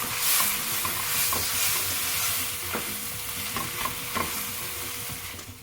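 Indomie seafood instant noodles being stirred in a pan with a little soy sauce, a steady close sizzle and frying hiss under scraping stir strokes, with no talking.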